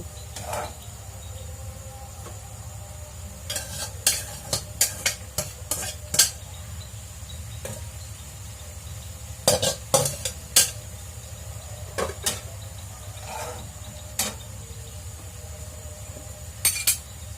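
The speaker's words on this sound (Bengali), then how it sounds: "তেলের মধ্যে একটু টমেটো এবং কাঁচামরিচ মশলা দিয়ে নেড়ে চেড়ে মিষ্টি কুমড়া এবং আলুগুলো ছেড়ে দিব" Pumpkin and potato pieces are stirred in hot oil with tomato and green chilli; a steady low background carries bursts of bright spoon clinks and scrapes against the pot, some in quick clusters, with no talking.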